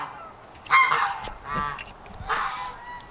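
Geese on a small farm with a temporary fence on grass, giving three loud, close honks in quick succession.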